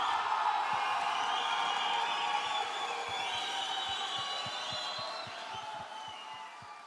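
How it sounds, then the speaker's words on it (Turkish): At the grand final of a singing competition, a large crowd cheers and whoops steadily while the winner walks on stage, scattered claps and faint low thumps running beneath the roar, which fades slightly toward the end. "Alkışlar eşliğinde sahneye çıkan Mustafa, Türkmenlerinin gururu haline geldi."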